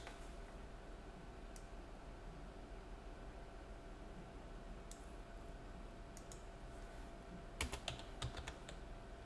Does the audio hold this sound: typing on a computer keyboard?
yes